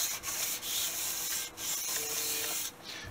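A VW cylinder head surface is rubbed clean of deposits with a rapid back-and-forth scraping and sanding hiss, close and continuous with brief pauses between strokes.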